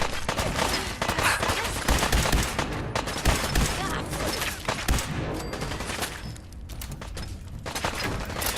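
Dense, continuous gunfire from a Fallout 4 firefight, with rapid bursts and heavy shots layered over one another at a steady loud level for the whole stretch.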